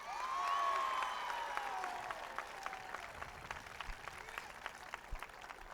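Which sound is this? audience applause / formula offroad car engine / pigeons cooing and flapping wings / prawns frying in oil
audience applause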